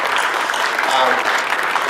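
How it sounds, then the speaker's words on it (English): Dense, loud crowd applause fills a hall at the 2018 Canadian International Auto Show, where a Volvo XC40 debuts, sustained and even throughout with some voices blended into the clapping. "Yeah, round of applause."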